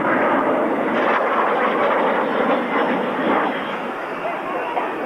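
Canberra jet aircraft flying past at a classic jets and fighter airshow, a loud, steady broadband roar sustained throughout with slight swells, no clear talk over it.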